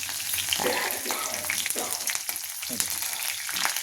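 Cut ginger and green chili pieces fry in hot oil in a pan, a continuous close crackling sizzle with soft stirring scrapes and no voices.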